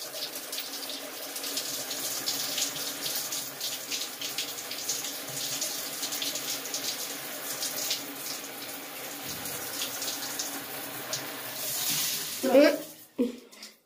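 Steady shower water runs and splashes as red hair dye is rinsed out of hair, a continuous close hiss and patter that stops abruptly near the end.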